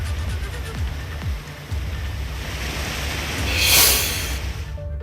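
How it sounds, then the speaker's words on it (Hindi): Rain-swollen seasonal river in Gharda village, Rudraprayag, rushing in flood, a steady broadband roar of turbulent water with wind buffeting the microphone, swelling briefly louder near the end. "घरड़ा गांव में बारिश की वजह से बरसाती नदी उफान पर बह रही है।"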